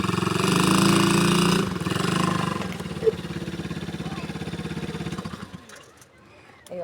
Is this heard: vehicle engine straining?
yes